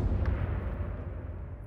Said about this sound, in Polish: Ktoś usłyszał wybuch.